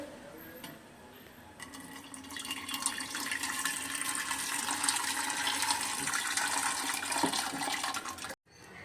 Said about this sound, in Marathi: आता मी हे कुकरमध्ये वतते